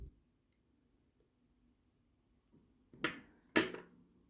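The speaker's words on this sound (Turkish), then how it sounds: "Şimdi ipimi kesiyorum." Scissors snip thread during Turkish needle lace work, two crisp close clicks near the end after a long quiet stretch.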